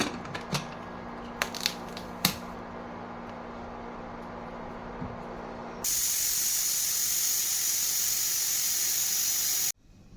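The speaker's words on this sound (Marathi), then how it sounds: "कुकरच्या 2-3 शिट्ट्या झालेल्या आहेत." A pressure cooker cooking tomato soup lets off a loud, steady jet of hissing steam for several seconds that cuts off abruptly, after a stretch of quieter background with a few sharp clicks.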